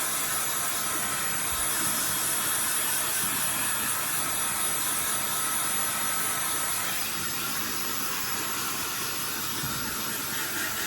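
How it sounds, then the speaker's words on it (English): A Dyson Airwrap blowing air to rough dry hair, a steady loud whooshing roar that holds continuously throughout, close by, with slight shifts as the airflow moves. "So I'm just gonna rough dry this."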